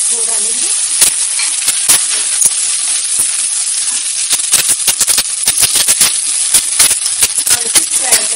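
Long-cut onions fry loudly in a hot pan for potato-onion sabzi, a dense continuous sizzle spattered with frequent sharp crackles and pops, close up and with no talk.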